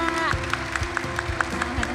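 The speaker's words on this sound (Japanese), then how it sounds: "大きな拍手をしていただければと思います" An audience at the CEATEC 2019 AI Summit applauds panel speakers from Philips Japan and Amazon Japan, scattered claps ringing out at a moderate pace across a large hall under a steady background hum.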